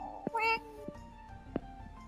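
A person imitating a cat during a role-play game, giving a high, drawn-out meow between short bursts of speech, heard close and fairly quiet.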